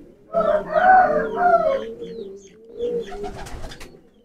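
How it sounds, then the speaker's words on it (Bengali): A prize racing pigeon from a Bangladeshi poultry tournament coos close by in a couple of deep, throaty phrases, with light rustling after. "এটা মাশাআল্লাহ, অসাধারণ সুন্দর কবুতর"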